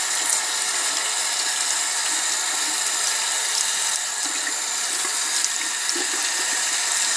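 Steady running tap water streams continuously as a paintbrush is rinsed beneath it, a constant close hiss with faint splashes and no speech.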